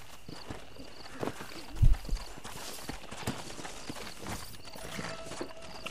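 A horse's hooves clip-clop in the western video game Red Dead Redemption, a steady run of moderate hoofbeats with a few heavier thuds partway through.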